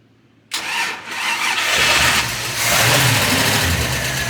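An old yacht's twin big-block Mercruiser engine cranks and catches after a short silence, then rumbles into a loud, steady run close by.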